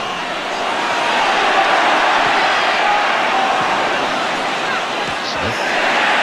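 Large football crowd at White Hart Lane in a 1989-90 Tottenham match, a steady distant roar of massed voices that swells slightly, with a commentator talking over it.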